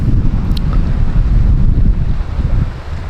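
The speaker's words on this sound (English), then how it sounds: "I'm talking and there's wind and whatnot" Strong wind buffets a Rode external microphone on the shore of Lake Superior, a loud, steady low roar that rumbles continuously with only slight dips and no voices.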